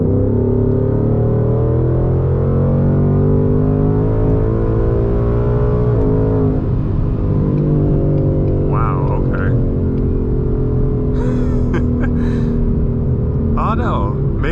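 A 2020 Ford Mustang GT V8 accelerating in fourth gear during a pull, the engine note climbing steadily and loud from inside the car, with someone talking over it throughout.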